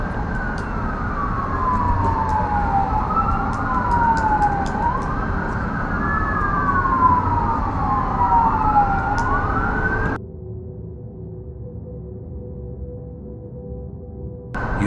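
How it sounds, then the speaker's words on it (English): Emergency vehicle sirens wail in rising and falling sweeps for about ten seconds in the background, then cut off abruptly, leaving a low steady hum; no talking. "these sirens we're hearing right now, people hear in the background"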